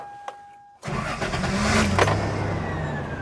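A 2003 Toyota Tacoma Quad Cab 4x4 with a manual transmission cranks briefly with the key and catches, its warm engine settling into a steady, loud idle close by after a short quiet pause.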